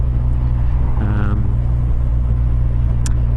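A motorcycle engine, a Kawasaki SX, holds a steady low rumbling drone at full power on country roads near Newcastle and the Mournes, with a brief rising rev partway through and a constant loud hum beneath.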